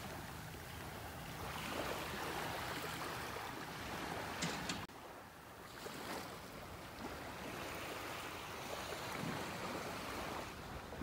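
Gentle waves break on a quiet, deserted stretch of beach with old tree stumps in North Naples, Florida: a soft, steady surf hiss with faint swells, heard from a distance and without talk.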